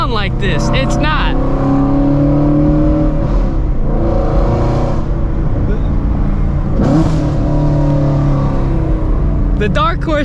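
A Shelby GT350 Mustang's V8 idles with a heavy, throbbing rumble and swells into a few revs. Brief speech opens and closes the stretch, laid over the engine.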